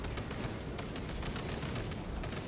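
A dense, unbroken barrage of heavy weapon fire from a cannon in the video game Warhammer 40,000: Space Marine 2, loud and close, with blasts blurring into a continuous roar for the whole stretch.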